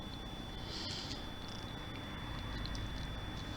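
A small kitten purring softly and continuously up close, a low, steady rumbling purr with a faint high whine in the background and no voices.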